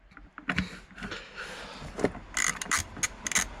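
Ratchet socket wrench clicking on the battery terminal of a 2003 Volvo XC90, a few soft mechanical clicks then bursts of rapid ratcheting close by, no speech.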